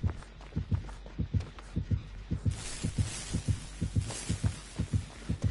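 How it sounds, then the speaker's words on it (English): Steady low double-thump heartbeat warning from the killer in Dead by Daylight, pulsing repeatedly at a regular rhythm with no talk, with a hissy wash of game ambience rising partway through. "I hear the heartbeat, but it's pretty far away."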